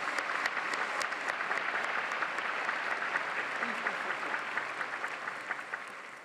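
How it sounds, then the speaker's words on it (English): Sustained applause from a large audience at an Auburn University spring commencement ceremony honoring university leaders, a dense, steady wash of many clapping hands that holds evenly throughout and tapers slightly at the end. "Let's have a round of applause for these university leaders."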